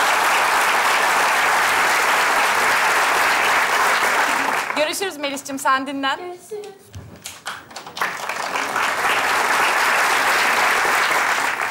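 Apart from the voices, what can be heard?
audience applause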